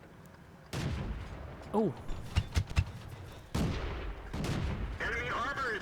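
Tank cannon shots and impacts in World of Tanks with a Panzer IV firing on a Panzer 1C; several heavy booms with rumbling tails, game sound effects and brief spoken voice lines mixed in over the battle.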